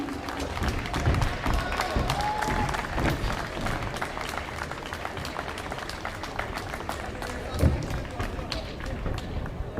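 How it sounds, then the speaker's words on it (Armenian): Audience applause fills a university ceremony hall for a singer, a steady dense patter of clapping running throughout with crowd noise and a voice mixed in. "ծափահարենք նրան"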